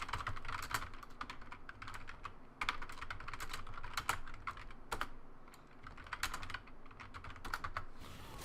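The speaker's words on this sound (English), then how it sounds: "And you'll hear me clicky-clacky typing." Someone types rapidly on a clicky computer keyboard at close range. The keystrokes come in uneven bursts of sharp clacks over a low background hum, and no one speaks.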